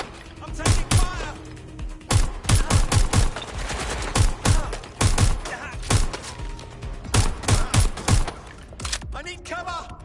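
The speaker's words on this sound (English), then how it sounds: "I'm taking fire!" Rapid gunfire bursts in the video game Watch Dogs Legion, loud close volleys in repeated clusters with short pauses, and a voice shouting over the shooting.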